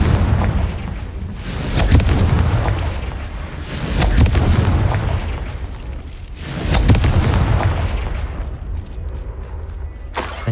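In the video game Hogwarts Legacy, Confringo fire spell blasts go off as a series of heavy booming explosions, each swelling and rumbling before fading, repeated at intervals about every two to three seconds.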